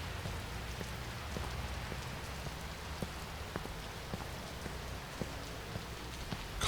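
Rain pours at night in Chicago in the Watch Dogs game, a constant wash of falling water with regular crisp drip clicks over a low rumble.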